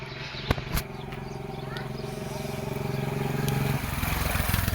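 A Hero HF Deluxe motorcycle engine idles close by with a steady throbbing putter that grows a little louder, after a couple of sharp knocks at the start.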